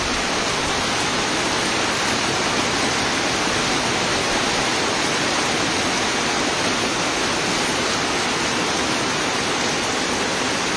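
Heavy typhoon rain pours down in a dense, steady roar that fills the whole scene with no pauses, loud and close, with no voices over it.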